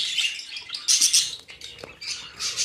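Rainbow budgerigars, pet Australian parakeets kept in breeding pairs, chirp and squawk in bright, rapid bursts that come and go in several clusters, close and fairly loud.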